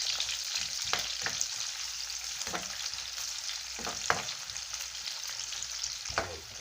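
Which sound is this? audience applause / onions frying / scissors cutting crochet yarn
onions frying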